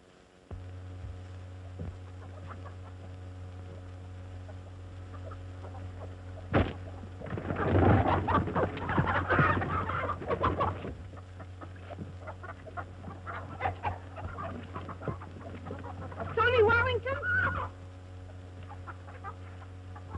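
Chickens cluck and squawk in two noisy flurries, one long and one shorter, over a constant low electrical hum in an old 1934 film soundtrack, with near silence between.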